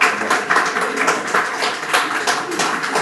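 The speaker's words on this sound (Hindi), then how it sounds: "तालियां बजाइए" An audience at a poetry reading claps in a dense, continuous patter, fairly close and loud, with no voices standing out.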